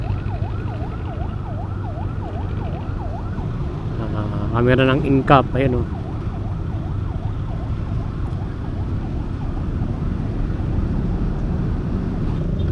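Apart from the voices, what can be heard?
ambulance siren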